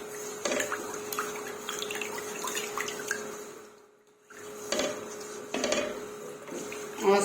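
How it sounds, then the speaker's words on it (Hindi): Sugar is stirred into two glasses of water in a cooking pot for a bread gulab jamun syrup, with soft sloshing and intermittent metallic clinks and scrapes of a spoon against the pot, close and fairly quiet. "चीनी को हम पानी में मिक्स करेंगे।"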